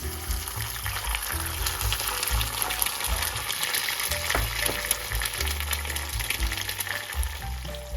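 An egg frying in a pan sizzles in a loud, steady, continuous hiss, with low rumbling handling noise in the background throughout.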